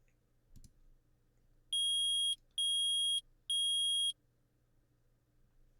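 Three evenly spaced electronic beeps from a metal detector in the Phoenix Wright: Ace Attorney video game, each about half a second long, sharp and clear over a quiet background.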